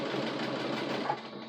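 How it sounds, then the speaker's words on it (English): A sewing machine stitches a heavy seam on a cushion or mattress cover for a small camper bus, running as a steady fast mechanical whir throughout and easing slightly near the end. "I've got to come over and reset my sewing machine for a straight stitch"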